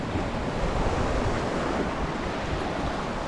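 Choppy sea waves wash against the rocky coast of Comino, Malta, a steady, loud roar of surf with wind buffeting the microphone, continuous and close throughout.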